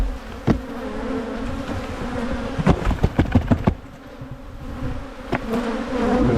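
Honey bees buzz in a continuous close drone as they are shaken off a hive frame, with a cluster of sharp knocking thumps from the shaking punctuating the hum.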